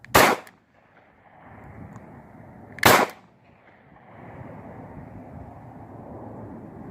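Two sharp, loud Taurus G2c pistol shots about three seconds apart, each a sudden blast that cuts off quickly, with a steady low background rumble between and after them.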